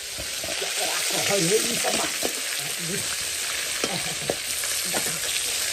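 Fish frying in a pan with a steady, loud sizzle of hot oil close by, while people talk over it in the background.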